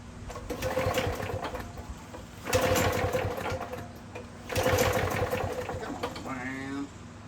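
A John Deere JS30 lawn mower engine runs at a steady idle, with three louder surges of revving and a brief rattling whine near the end.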